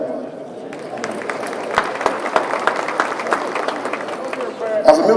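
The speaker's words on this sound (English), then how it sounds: "Y'all go ahead and clap." An audience at a campaign event for an agriculture commissioner candidate claps, with scattered sharp hand claps building into loose applause while voices and crowd murmur carry underneath.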